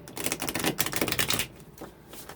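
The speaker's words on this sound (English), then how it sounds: "since we have to do this again for your person's point of view, I got to shuffle" Tarot cards being shuffled by hand, a dense run of quick riffling clicks and flutters for about a second and a half, then quieter soft handling as the deck settles.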